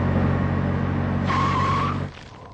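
A vehicle brakes to a stop, its engine drone joined by a brief tonal brake or tyre squeal before the noise cuts off and drops to quiet; close and fairly loud, with no talking.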